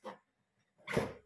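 A dog in a home gives two short barks, a brief one at the start and a louder, fuller one near the end, separated by a near-silent gap.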